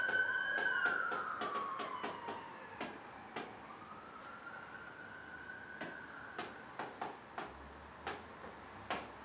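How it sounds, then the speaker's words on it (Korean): A siren wails with a falling, then rising pitch, fading in the middle, while sharp ticking clicks repeat steadily throughout. "사이렌 소리가 심각하죠."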